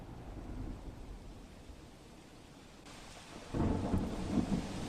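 Unseasonal rain falls across Rajula town and the coastal area of Amreli district, with a steady wash of rain and a low rumble of thunder that swells louder partway through.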